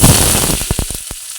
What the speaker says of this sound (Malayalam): ചെറുള്ളി വെളുത്തുള്ളി ഇട്ടിട്ടുണ്ടല്ലോ